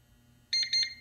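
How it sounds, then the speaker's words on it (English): A CyberPower UPS being switched off gives two quick pairs of high electronic beeps, sharp and close over a faint low hum. "until that beep beep confirm that we are turning it off."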